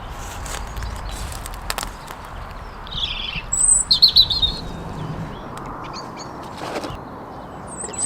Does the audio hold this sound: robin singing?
yes